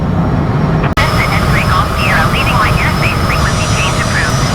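Airliner flying with its landing gear retracted in a flight simulator game, bound for New York: a steady, loud jet engine drone runs throughout, with a brief cut near the start and a faint voice chattering over it.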